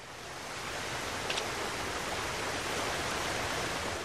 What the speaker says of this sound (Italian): Sembrerebbe che nessun pesce sia in grado di risalire questa cascata